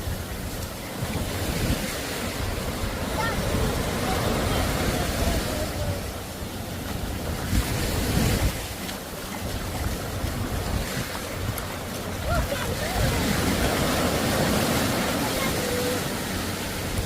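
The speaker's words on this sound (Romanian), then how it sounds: "Iar vin valurile alea mari." Big waves of the Laccadive Sea break on a Sri Lankan beach with yellow sand, a loud rolling surf roar swelling and easing in surges, buffeted by wind noise on the microphone, with voices faintly mixed in.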